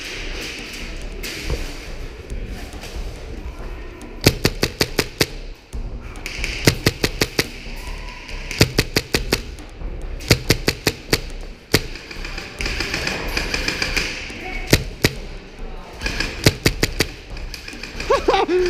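Tippmann M4 HPA paintball marker fired in a game, bursts of rapid sharp pops in quick strings over a busy outdoor background, close and fairly loud, with scattered shouting around them.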